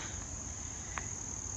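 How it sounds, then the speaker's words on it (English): Crickets chirp steadily outdoors near a bridge, a continuous high-pitched trill that runs through the whole stretch at a constant level, with a low rumble of background noise beneath it and no voices. "You can hear the vibration of the crickets"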